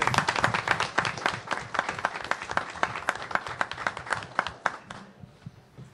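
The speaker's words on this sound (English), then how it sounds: "I think we need to give them a round of applause" An audience at a town hall meeting held in a Baptist church applauds the church. The dense clapping is loud at first and keeps up steadily for several seconds, then thins out and fades near the end.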